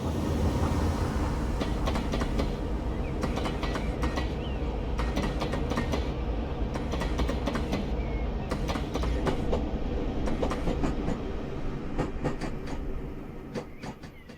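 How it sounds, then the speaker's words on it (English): An unrebuilt Bulleid Pacific steam locomotive rumbles past hauling a train, with rhythmic clickety-clack from the wheels and a steady heavy roar, fading slightly toward the end. "Resident unrebuilt Bullied Pacific number 21C155 is seen at Bishopsbourne with a train for Penning."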